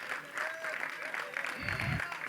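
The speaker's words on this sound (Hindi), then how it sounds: "एक बार जोरदार तालियां" Audience applause at a film trailer launch event in Bharat, a steady mid-level patter of clapping running under lively voices and background chatter throughout.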